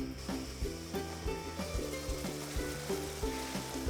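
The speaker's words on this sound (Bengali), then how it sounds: "ভালো করে কষে নিতে হবে" Mutton pieces fry in oil for a mutton curry, sizzling continuously while a spoon stirs them in steady scraping strokes roughly every half second, close and fairly loud with no talk.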